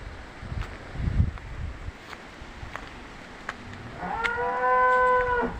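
Cattle lowing in a rural yard, a single drawn-out moo with clear harmonics rising near the end, heard over steady wind noise and rustling outdoors.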